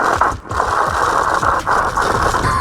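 A G2 scooter deck scraping along the road surface: a loud, continuous, gritty grinding with rough ratcheting texture, sustained throughout with only brief dips.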